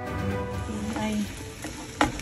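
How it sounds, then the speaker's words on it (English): Macadamia nuts being stirred into melted white chocolate: soft, close scraping and sticky stirring sounds with a faint background sizzle and one sharper knock near the end. "mix with my nuts now. And then I gonna go separate this and put this in the places."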